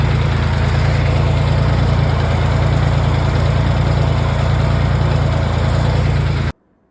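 A John Deere 300 backhoe with hydraulic and power steering problems runs in a steady, loud diesel drone with a deep low rumble, close by and unbroken until it cuts off abruptly at the end.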